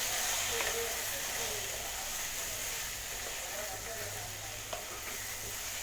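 Kuzhambu masala powder being stirred into a frying mixture for black chana kuzhambu, giving a steady broadband sizzle and hiss with soft stirring scrapes throughout, close and continuous with no talk.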